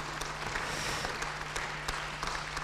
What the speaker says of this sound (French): on peut les applaudir et les encourager